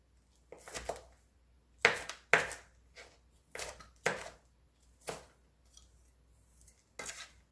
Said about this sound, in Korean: 홍고추 하나 총총총총 썰어서 넣어주세요